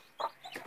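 A broody hen clucks near her newly hatched chicks, two short, close clucks in quick succession, clear and moderately loud against a quiet background.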